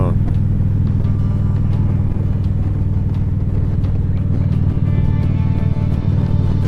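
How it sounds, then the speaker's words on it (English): Truck and another vehicle passing on a road, a steady loud low rumble of engines and tyres that swells slightly as they go by, with someone talking throughout. "I'm gonna let this truck go on. This other vehicle's past me"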